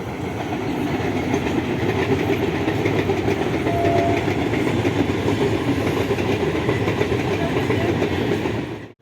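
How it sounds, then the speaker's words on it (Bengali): A train rumbles past close by, its steady clattering roar filling the whole stretch before cutting off abruptly at the end. "মনে হচ্ছে একটা ট্রেন আসছে"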